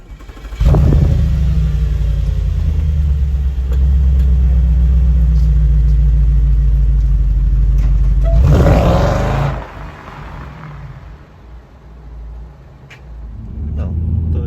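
Audi S5 with a 4.2 V8 running on LPG, driven through city streets: a loud, deep engine rumble holds steady for most of the stretch, swells briefly as it revs, then drops to a quieter idle-like hum.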